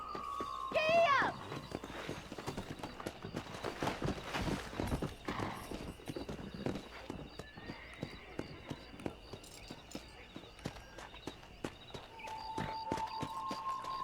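In Red Dead Redemption, a horse's hooves drum rapidly and steadily at a gallop, with a whinny and a whistle near the start, while a voice speaks over the ride.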